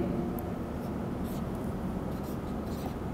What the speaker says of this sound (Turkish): İkisini yazıyorum.